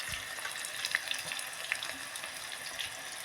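Chopped onion hits hot oil in a pan for mutton keema and fries with a busy, crackling sizzle, close and continuous, with small pops scattered through the hiss.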